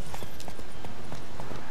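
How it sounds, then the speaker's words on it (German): Horse hooves clip-clop in The Witcher 3 as the mount trots, a steady rhythmic run of soft thuds under a dense game soundscape, moderately close and unaccompanied by speech. "Mensch, dreh um, du blödes Pferd."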